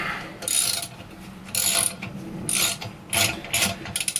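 A hand ratchet loosening front brake bolts on a 1994 Yamaha FZR 600, heard as several separate bursts of quick ratcheting clicks with short pauses between them, close and fairly quiet.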